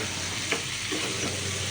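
Tomato pieces fry in a little oil, giving a continuous close sizzle with brief stirring scrapes as the pan is worked.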